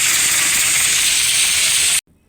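A pressure cooker hisses steam while black chickpeas cook for kala chana masala: a loud, steady, continuous hiss that runs for about two seconds and then cuts off abruptly to near silence.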